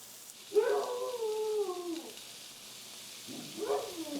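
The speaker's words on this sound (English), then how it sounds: "The dogs are playing." Two drawn-out howls from playing dogs, one long and wavering and a shorter one after a pause, fairly close over a faint sizzling hiss.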